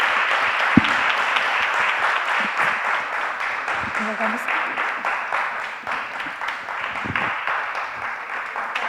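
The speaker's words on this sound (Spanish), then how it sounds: "les pido que les demos un gran aplauso por esta increíble mesa" Audience applause closing a conference panel: sustained, fairly loud clapping from a crowd lasting several seconds, with some talking underneath.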